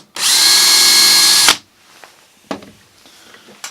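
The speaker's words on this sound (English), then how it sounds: "I use this snappy self-centering hinge drill bit." Power drill running a self-centering hinge drill bit into wood for a drill press table fence, one loud steady whine of about a second and a half, then a couple of faint clicks and knocks.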